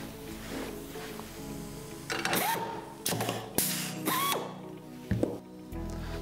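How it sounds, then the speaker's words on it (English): An Applifast AirPower AP4 pneumatic nutsert tool installs a fastener, giving several short, loud mechanical whirring and clacking bursts with pneumatic hiss, close up and alone. "you can see me install it in the hole, depress the trigger, and release the tool from the installed fastener"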